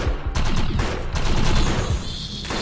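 Gunfire in the shooter game Defiance 2050 on PS4, a loud rapid burst of overlapping shots filling the whole moment with no talk.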